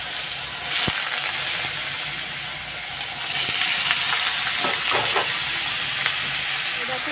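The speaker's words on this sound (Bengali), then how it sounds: "তেল একদম তেতে গেছে এখন আমি সব ভাজাগুলো দিয়ে দেবো" Fried vegetables hit hot oil seasoned with black cumin, giving a steady, broad hiss and sizzle that fills the whole clip, with a few brief clatters from the pan and no one speaking.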